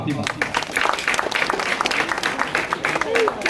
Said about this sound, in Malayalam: എന്നെ കൈയടിച്ചിട്ടല്ലോ